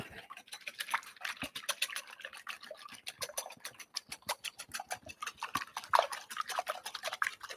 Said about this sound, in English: Whisk those up.